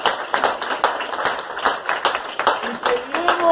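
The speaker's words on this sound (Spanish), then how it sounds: "Eso merece un fuerte aplauso, compañero," Applause at a union assembly, a lively burst of many hands clapping close and steady, with shouts and voices mixed into the crowd noise.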